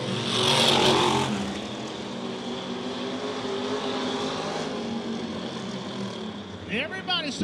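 Topless modified race cars roar around Charleston Speedway, a loud sustained engine drone with a passing car's rising whine near the end, while an announcer calls the race over it.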